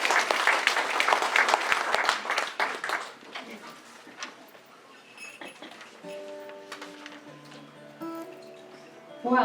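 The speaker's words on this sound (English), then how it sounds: "let's give a nice round of applause for Chantel Foster and John Surrey" A round of applause from the audience at a 2019 St. Johns holiday special fills the first few seconds, then fades as a soft piano-like tone emerges under quieter room sound.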